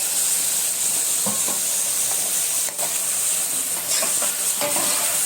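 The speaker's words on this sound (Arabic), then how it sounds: "هحط الفلفل دلوقتي لان انا مش عايزه الكبده تنشف معايا" Peppers hit Alexandrian-style liver already frying in a pan, setting off a loud, steady hiss of sizzling oil close by, with a few clinks and stirring scrapes scattered throughout and no speech.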